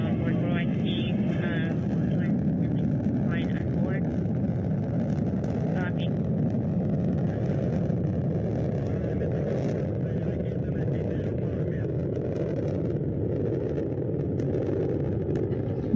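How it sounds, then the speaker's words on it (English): Soyuz MS-26 rocket lifts off carrying a crew to the International Space Station, a steady, broad low roar of engines rumbling continuously beneath ongoing mission commentary. "we have liftoff of Pettit, Ovchinin, and Wagner, now on their way to the International Space Station"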